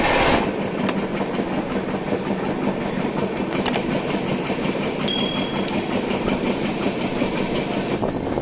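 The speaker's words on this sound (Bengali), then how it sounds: "ট্রেনের ছাড়ার সঙ্গে সঙ্গে ট্রেনের স্পিড দেখো 130, 28 যাচ্ছে" The Himgiri Express runs at high speed, with a steady loud rumble of wheels on track and rhythmic clickety-clack from the carriages, heard from inside the train.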